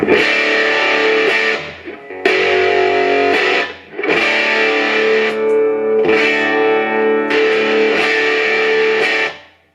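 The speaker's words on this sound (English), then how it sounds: "More of a distorted kind of rock tone" Heavily distorted electric guitar through an MXR Distortion+ clone pedal playing sustained chords in several bursts, loud and saturated with a rich, gritty tone and slight echo.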